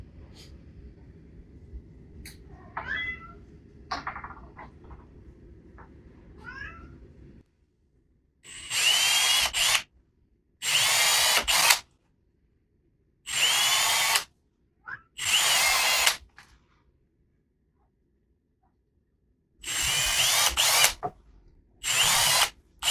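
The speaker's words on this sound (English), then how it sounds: "first thing I'm going to do is start drilling these into the board." A power drill bores into a wooden board while a wall-mounted coat rack is being built: a quiet stretch first, then five or six loud, close bursts of whining drilling, each lasting one to two seconds and separated by short pauses.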